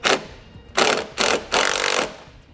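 Power tool driving fasteners into the front fascia of a 2013 Smart fortwo, heard as four loud, close whirring bursts separated by short pauses, the last one longest.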